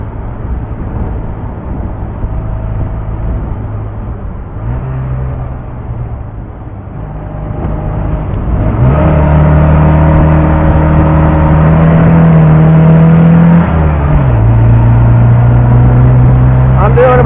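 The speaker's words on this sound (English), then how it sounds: "And this is a slow car, and it's fun to drive fast." A 1970 MGB sports car driven hard at speed, its engine droning close and loud, then revving up into a stronger sustained pull as it accelerates, with a voice talking over the engine.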